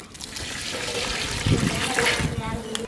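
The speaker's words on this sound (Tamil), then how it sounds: "தேவையான அளவு தண்ணி சேர்த்துக்கலாம்" Water splashes and trickles steadily into a brinjal kuzhambu, a Jaffna-style curry cooking in a pot, with someone talking over the pouring.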